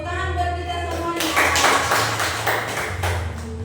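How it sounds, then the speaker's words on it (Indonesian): A class of students claps hands in a classroom. A voice is heard first, then several sharp, close bursts of group clapping follow in a loose rhythm. "Tepuk tangan buat kita semuanya."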